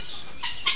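Chinese guineafowl at a farm park giving two brief, sharp clucking calls close by, the second louder, over a faint background hiss.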